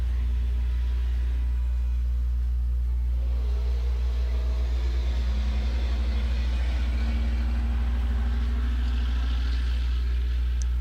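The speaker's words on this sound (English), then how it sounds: "Noisy ass truck." A loud, noisy truck rumbles past close by, a steady low engine drone that swells and fades over several seconds.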